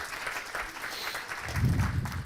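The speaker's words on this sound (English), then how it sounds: "big round of applause" Applause from an audience after a talk, a steady wash of clapping that swells slightly toward the end, moderately loud.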